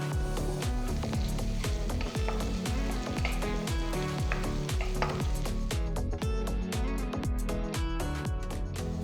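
Chopped green chilies and curry leaves sizzle in hot oil with finely chopped ginger. A dense, steady crackle runs throughout, broken by repeated rhythmic thumps and clinks of stirring in the pan, all close and without talk.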